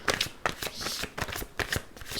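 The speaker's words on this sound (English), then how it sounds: "I shall shuffle a bit more now on each deck that I use" An oracle card deck is shuffled by hand in a series of quick riffling bursts with short pauses between them, close and fairly quiet, with no voice.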